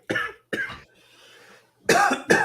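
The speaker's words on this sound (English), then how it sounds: "the cough lingering there" Four harsh, close coughs come in two pairs, separated by a short stretch of low background murmur.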